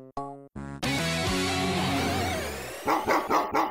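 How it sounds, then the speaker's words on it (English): Dog barks sound in an arcade-style video game, first two short electronic chimes, then a long synthesized tone and a rapid series of loud, close barks at the end. "Dog."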